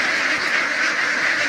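A large flock of F1 Itik Pinas ducks on a balut duck farm in Cebu quacks all at once, forming a loud, dense, continuous chorus close by.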